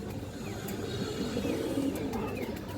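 A pair of Mushal Dom pigeons coo softly and repeatedly at a bird market, low rounded calls over a faint background murmur with a few sharp chirps.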